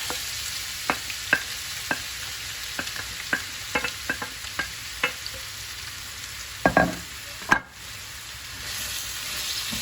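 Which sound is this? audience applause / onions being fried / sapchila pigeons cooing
onions being fried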